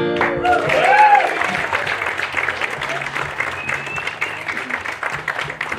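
A festival audience claps enthusiastically as a sung Irish folk phrase fades, the applause carrying on loud and continuous for several seconds.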